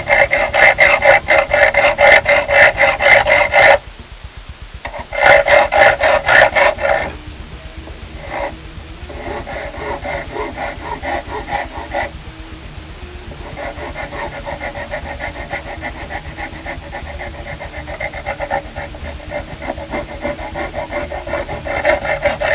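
A round file rasps back and forth over a custom knife handle in steady, rhythmic strokes, loud and close, pausing briefly partway through before the even scraping resumes alone.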